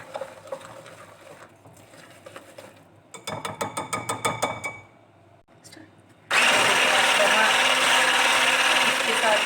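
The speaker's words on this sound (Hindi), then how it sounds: "अब हम इसे अच्छे से मिक्स कर लेंगे।" Semolina cake batter stirred in a kadai: a burst of rhythmic clattering scrapes gives way to a loud, steady whirring of mixing, with no talking.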